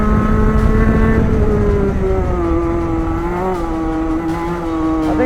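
Hand control go-kart pushed through a fast lap, its small engine droning loud and close with pitch rising and falling through the corners, steady throughout.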